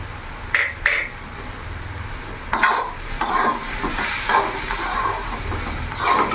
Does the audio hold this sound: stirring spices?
yes